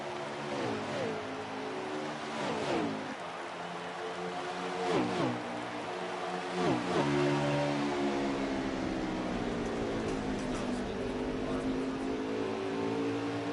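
Several race car engines roar in a racing video game set at Iowa, their pitch sweeping up and down through gear changes as cars battle and pass, with a voice talking over the steady engine drone.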